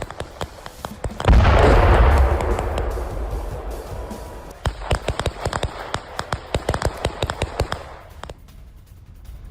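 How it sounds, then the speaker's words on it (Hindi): A drone explodes in a heavy boom overhead during an attack on a Russian oil refinery, then a long series of sharp crackling pops and bursts rattles on and slowly fades. "आसमान में होता है एक बड़ा धमाका।"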